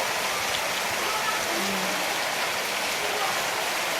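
Steady rain falling over a rice-farming area in the morning, a dense even hiss of drops that stays constant and fairly close throughout, with no voices.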